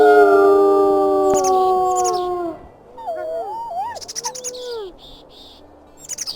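Wolves in the game WolfQuest howl one after another, long gliding wails overlapping and then giving way to shorter wavering calls, with chirping birds and insects heard faintly around them.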